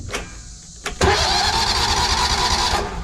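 A warm Vanguard engine on tree work equipment, with a failing starter, cranks briefly and catches at once, then settles into a loud, steady, close-up running roar.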